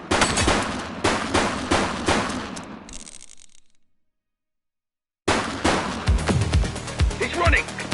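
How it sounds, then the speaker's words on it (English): Machine gun fire in the police game The Precinct, loud rapid bursts close by, cutting off into total silence for over a second before heavy automatic fire resumes, with game sounds layered underneath. "She's shooting!"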